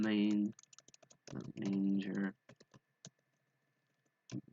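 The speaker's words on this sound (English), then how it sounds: "I do want to finish typing this comment" Typing on a computer keyboard in quick bursts of sharp clicks, separated by pauses, close and fairly quiet in a calm room with no one talking.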